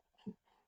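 Dog giving a single short, faint whimper, very quiet and brief, heard alone without talk.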